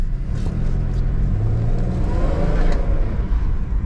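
A car engine with a suspected mass airflow sensor fault revs up steadily, a loud continuous rumble that rises in pitch, close by and with no talk over it.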